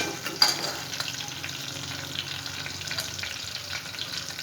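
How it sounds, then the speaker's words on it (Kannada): A small onion frying in oil, a steady close crackle and fizz with a sharp knock at the start and light stirring, no one speaking. "ಈಗ ಒಂದು 5 ನಿಮಿಷ ಎಲ್ಲ ಫ್ರೈ ಆಗಲಿ ಎಣ್ಣೆಲಿದು."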